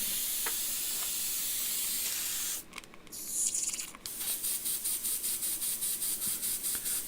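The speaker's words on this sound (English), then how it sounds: "So we can clean out the airbrush again." An airbrush being cleaned out sprays in hissing bursts: a steady spray, a brief pause and a louder gush, then a rapid run of short, even pulses, close up and with no talking.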